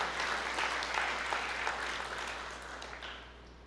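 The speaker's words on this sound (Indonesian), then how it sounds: "Berikan tepuk tangan ya," A church congregation breaks into applause during a sermon, a fairly soft, distant wash of many hands clapping together that swells briefly and then fades, with a low steady hum underneath.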